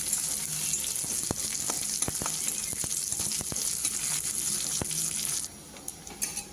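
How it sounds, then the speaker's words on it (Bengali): Onion, garlic and chili fry in a pan with a steady, bright sizzle. Faint stirring taps run through it, and the sizzle drops off abruptly near the end. "পেঁয়াজ রসুন লঙ্কা খুব ভালোভাবে ভেজে নিয়েছি।"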